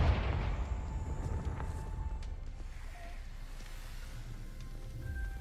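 A Confringo fire-blast spell from the Hogwarts Legacy video game bursts with a loud opening blast that decays into a long, rumbling tail, with faint tonal chimes and ambience lingering afterward.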